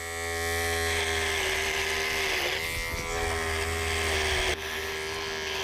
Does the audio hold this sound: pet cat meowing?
no